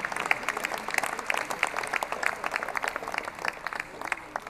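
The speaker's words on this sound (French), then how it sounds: "Il ne faut pas qu'il y ait que les élus qui applaudissent" Sustained audience applause at a civic New Year greetings ceremony in Dijon, many hands clapping densely and steadily throughout, fairly loud and with no speech over it.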